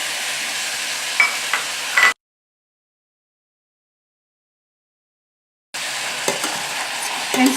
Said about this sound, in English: I'm adding my tomatoes.